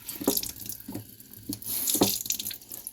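Broken apartment faucet that won't shut off, water gushing and splashing into a sink in uneven bursts, fairly quiet and close with no voices.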